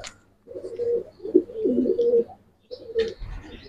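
Racer pigeons cooing up close in a loft, three rolling throaty coo phrases separated by short pauses, clear and fairly loud.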